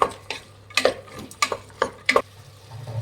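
Chopped capsicum being stirred into vegetables in a pan for veg biryani, a spoon scraping and clinking against the metal pan in a series of sharp, irregular strokes over a faint sizzle.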